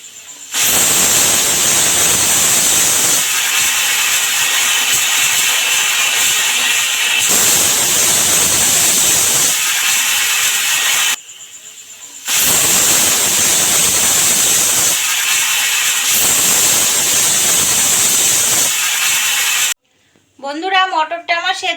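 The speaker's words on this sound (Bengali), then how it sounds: "আর আমি কুকারটা ঢেকে দিচ্ছি। এটা আমি বেশি সিটি দেব না" Pressure cooker with peas on the stove hissing loudly and steadily in long blasts, with brief breaks between them, ending in a short wavering whistle.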